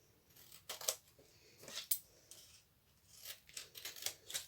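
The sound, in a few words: scissors cutting out a laminated card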